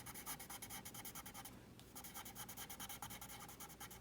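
Coloring around an image on a handmade card gives a soft, quick scratching of a coloring tool on paper, close and very faint, in rapid back-and-forth strokes with a short pause midway.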